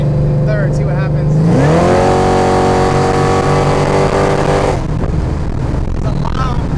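A 2014 Ford Shelby GT500 accelerates hard in third gear, its engine note climbing steadily in a loud, sustained rising roar for several seconds before the throttle lifts, with some talk around it.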